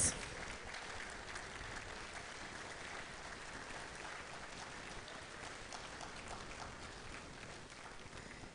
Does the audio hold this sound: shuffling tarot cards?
no